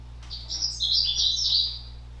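A songbird delivers a quick, bubbling, warbling song lasting about two seconds, clear and fairly close against a quiet background hum.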